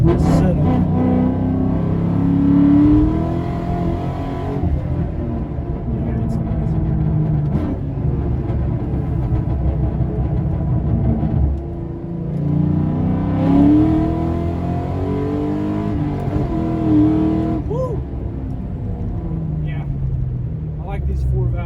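A Ford Mustang Mach 1 with a four-valve V8 and an X-pipe exhaust revs loud and close. Its deep, raspy note swells and falls through repeated throttle blips over a constant idle rumble.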